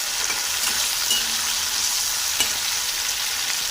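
Chopped tomatoes fry in a pan for chilli soybean, giving a steady, close hiss of sizzling oil with a few faint stirring clicks and no voices.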